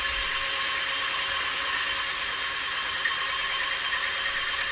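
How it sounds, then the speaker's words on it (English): A tube notcher with a blade cools under WD-40 while it cuts steel tubing for a long-travel suspension steering build, giving a steady, loud, unbroken high-pitched grinding whine throughout. "So while I'm tube notching,"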